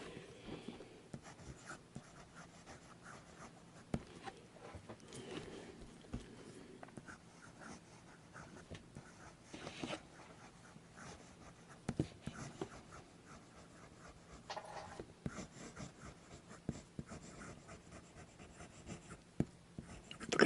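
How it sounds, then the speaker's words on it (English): Nib of a Blue Storm fountain pen gliding across paper, a soft continuous scratchy rustle with small tapping strokes, close and quiet, with no voice over it. "this pen just sails across the paper"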